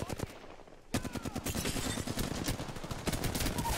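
Rapid automatic gunfire rattles in Apex Legends, a near, loud burst of fast repeated shots that starts after a brief lull and continues densely to the end.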